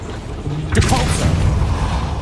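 A Depulso spell fires in Hogwarts Legacy inside a goblin mine, a sudden whooshing burst with a bright crackle that fades over a second against a rumbling ambient bed.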